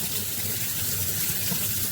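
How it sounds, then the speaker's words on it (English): Kitchen tap water runs steadily into a sink while leeks are rinsed for leek and potato soup, a continuous close hiss and splash. "running water is the best way to do it"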